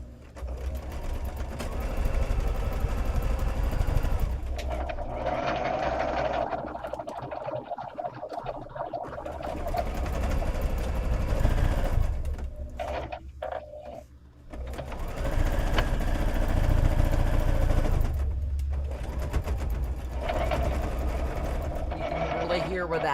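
A sewing machine runs in long steady bursts while stitching a beach bag, pausing briefly a couple of times, with people talking over it throughout.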